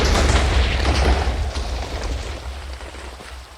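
A TNT tower explodes in a video game, a loud, deep rumbling boom with dense crackling bursts that slowly fades over a few seconds.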